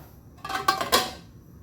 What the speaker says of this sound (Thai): ปิดฝาไว้ก่อน